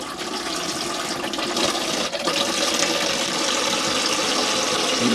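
Water from a Hymer B544 motorhome shower head runs in a steady, fairly loud broadband hiss for the whole stretch, unbroken and with no one talking over it.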